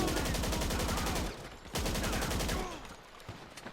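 Rapid automatic weapon fire in GTA 5 Online, aimed at Lost MC gang members crowding an alleyway: loud, close, machine-gun rattle in two sustained bursts separated by a brief pause.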